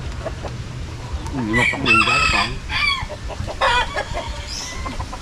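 Chicks cheeping near a country hut, mixed with louder, repeated chicken calls in short rising and falling bursts, close and lively, with faint voices now and then.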